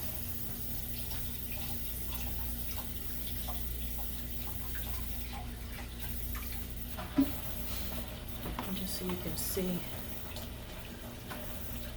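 Steady running water pours continuously from a tap over a bowl of rice being rinsed, with faint swishing; a voice briefly speaks under it.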